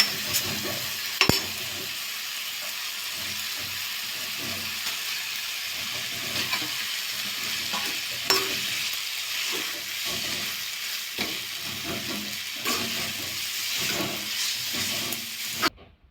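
Maggi noodles with vegetables frying in a pan, a steady close sizzle and hiss broken by scraping stirs and occasional spatula clacks against the pan, no voices.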